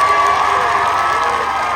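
Festival crowd at an outdoor colour-powder event cheering and clapping in a steady, loud wash of voices and applause, with no single voice standing out.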